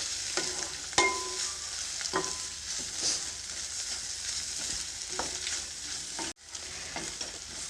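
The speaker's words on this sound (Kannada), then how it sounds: "ಅರಿಶಿನ ಪುಡಿನ ಹಾಕಿದ ಮೇಲೆ ಒಂದ್ಸರಿ ಚೆನ್ನಾಗಿ ಮಿಕ್ಸ್ ಮಾಡ್ಕೊಳ್ಳಿ" Onions with turmeric powder frying in a pan for potato-free palya, a continuous sizzle with scattered clicks and scrapes of a spoon being stirred through, and a brief dropout near the end.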